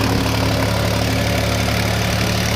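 A tractor engine runs steadily at a held RPM while climbing a steep slope, a loud continuous low drone with a deep vibrating hum throughout and no pauses.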